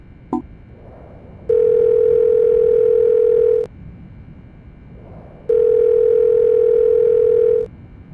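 Harry's phone in the video game Silent Hill: Shattered Memories emits a ringback pattern of two long, steady electronic tones, each about two seconds, separated by a pause, after a brief click at the start.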